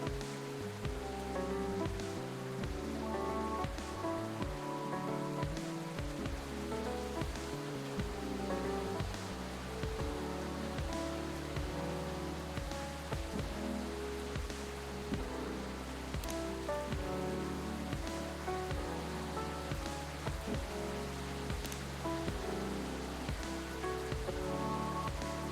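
Scattered plinking taps meant to imitate raindrops, played over a steady low musical bed, continuous and fairly even throughout, with no talk.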